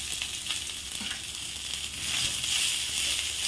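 Two handfuls of washed coriander leaves sauté in a hot pan for chutney, giving a bright, continuous hiss that swells slightly in the second half, close and unbroken.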